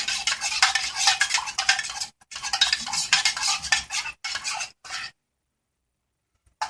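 Coffee and chocolate from a Norwegian Arctic field ration stirred together into mocha: close, rapid scraping and rasping strokes of a utensil in a container, with short pauses, ending after about five seconds.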